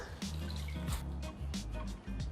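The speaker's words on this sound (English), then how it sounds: "Then squeeze out the excess water" Soaked snow fungus squeezed by hand, letting excess water drip and trickle away in a few short wet squelching bursts, close and fairly quiet.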